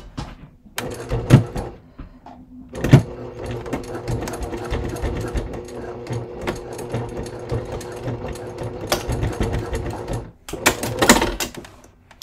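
An electric sewing machine stitches the base of a leather crossbody bucket bag, running in long steady bursts with brief pauses and a few louder clunks between runs, close and alone without talk.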